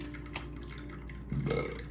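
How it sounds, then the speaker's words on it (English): A single close burp from a person, short and low, rising in the last half second after quiet room noise. "excuse me, burp for confirmation."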